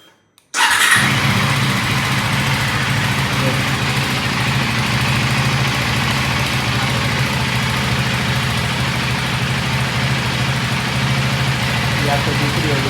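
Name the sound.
KTM Duke 390 Gen-3 motorcycle engine idling with vibration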